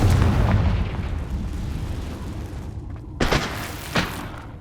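A Confringo blast spell fires in the video game Hogwarts Legacy, a loud booming explosion with a long rumbling tail, followed by two sharper bursts a moment apart near the end.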